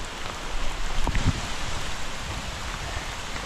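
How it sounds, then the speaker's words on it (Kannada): Steady monsoon rain on a foggy mountain trek at Tadiandamol peak, Coorg, patters continuously, a soft even hiss with no voices, holding at moderate loudness throughout. "ಫಾಗ್ ಇದ್ದರು, ಮಳೆ ಬರ್ತಿದ್ರು."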